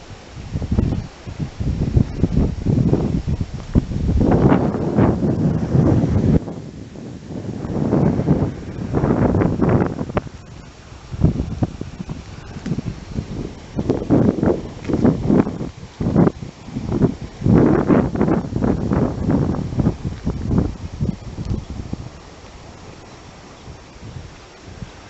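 Gusty morning wind blows outdoors under an open sky, rushing and buffeting in uneven surges against the microphone, loud and steady for most of the stretch before easing near the end, with no voices.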